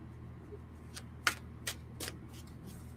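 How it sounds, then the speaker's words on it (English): Tarot cards are shuffled by hand in a quiet room, giving a few short, crisp riffling bursts spaced apart over a low steady background hum. "I'm going to shuffle this really, really, really good this time because we keep getting the same cards."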